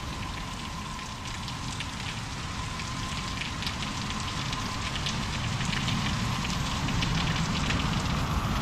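Steady cold rain with hail falling, a dense, continuous patter and hiss of drops on surfaces throughout, moderately loud and even, with no voices.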